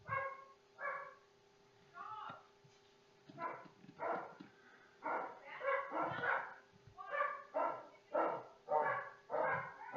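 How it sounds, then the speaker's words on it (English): Several dogs bark in repeated bursts with some yips and whimpers, fairly close and growing more frequent, over a steady low hum. "as all the poopies bark in the background"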